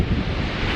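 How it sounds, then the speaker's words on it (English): Strong wind buffets the microphone outdoors on a New Zealand road trip, a loud, dense, continuous roar with low rumbling gusts and no voices. "It's a little windy out."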